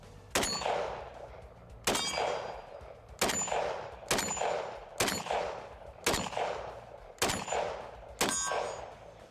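Seven loud, sharp shots from a SIG PE90 rifle ring out at roughly even intervals of about one to one and a half seconds. Each crack trails off in a metallic ringing echo, and no one speaks.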